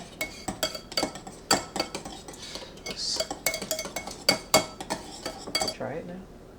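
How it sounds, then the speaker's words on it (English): A mixer whirs and clatters against a bowl while seasoning is mixed at home for copycat Raising Cane's chicken, with sharp metallic clinks and scraping taps repeating in quick irregular bursts close by. "We're gonna use a mixer. Mix this up."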